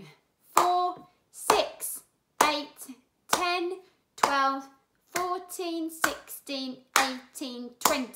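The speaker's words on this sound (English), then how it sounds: "I want you to clap as you do it and really loud so I can hear you" Children in a Year 1 maths class clap loudly, one clap per number, while chanting a count in twos. About ten evenly spaced claps land in a steady rhythm, each paired with a spoken number.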